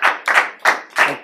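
Applause from an audience at a talk on building relationships, four distinct loud bursts of clapping in quick rhythmic succession with no voices.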